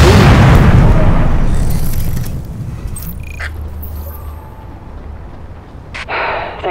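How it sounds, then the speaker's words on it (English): Explosion in Tom Clancy's The Division shooter, a single loud booming blast that rumbles and decays over a couple of seconds, followed by quieter ambient game sounds and a brief sharp crack. "There we go, another explosion."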